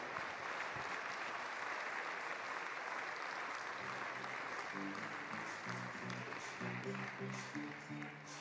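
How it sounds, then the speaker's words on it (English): Steady crowd applause rolls through a hall at a national table tennis championship after the women's singles final, continuous and even throughout, with a faint voice underneath toward the end. "let's get the applause going as well for Jasmin Wong."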